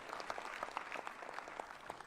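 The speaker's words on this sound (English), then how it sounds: "Let's thank God and clap for them present here." A crowd at a luncheon for Uganda's 2022 medalists claps steadily in a brief, dense burst that is moderately distant and even throughout.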